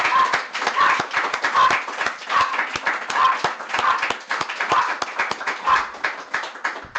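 A congregation at a religious feast gathering claps for a school, producing sustained, fairly rhythmic applause with dense overlapping hand claps that continue steadily throughout, moderately close.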